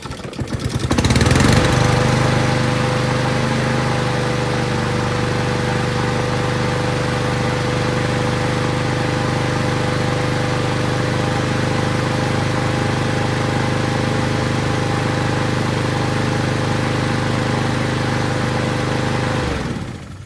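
A 2012 Troy Bilt TB 240 lawn mower with a Honda GCV 160 engine and rebuilt carburetor pulls to life and runs at a loud, steady drone, close by for about eighteen seconds before cutting off.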